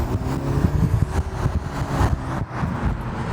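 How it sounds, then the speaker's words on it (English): Engine of a BMW 330i drones steadily from inside the car, with intake noise and faint turbo spool over a heavily muffled exhaust, continuous and moderately loud with small surges. "I hear the intake and the turbo spool a little bit, but this exhaust is really muffled."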